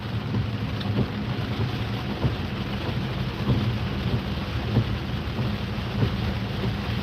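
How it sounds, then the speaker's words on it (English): Heavy rain pounds steadily on a car in traffic, a dense continuous roar broken by occasional low rumbles of thunder. No one speaks. "It's starting to rain even harder now."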